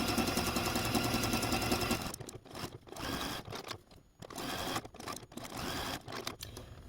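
A sewing machine stitches down a quilt block for a snowman quilt, running in a steady continuous whir for about two seconds, then continuing in short bursts broken by brief pauses.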